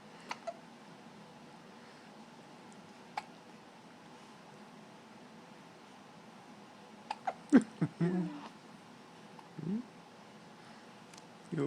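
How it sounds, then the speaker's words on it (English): A baby's small hiccups, a few soft, isolated catches scattered across otherwise quiet room noise, with faint rustling and an adult's murmured voice. "Do you have the hiccups?"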